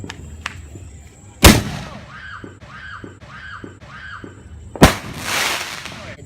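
Two consumer fireworks launched from a mortar tube outdoors, each a sharp, loud bang about three seconds apart, with whistling and crackling trailing between them.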